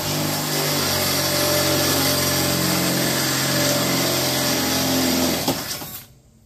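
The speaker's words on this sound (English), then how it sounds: "so I'm going to go ahead and drill the base out." A power drill whirs loudly and steadily, close by, as it bores into the base of a backpack blower rack on a landscaping trailer, then winds down and stops near the end.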